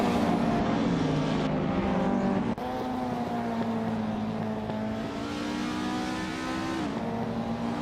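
Engine roar of a 2001 BMW M3 E46 GTR race car in a racing video game at Suzuka, starting from pole among a grid of street cars, a loud sustained drone with shifting pitch and a brief gear-change dip.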